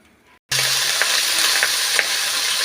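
Onions drop into hot oil in a pan while cooking spinach and fenugreek sabzi, setting off a sudden, loud, steady sizzle that continues alone with a few brief crackles.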